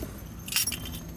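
A bunch of car keys for a convertible Ferrari Testarossa kit conversion jangles briefly up close, a short bright metallic shake over a low background hum.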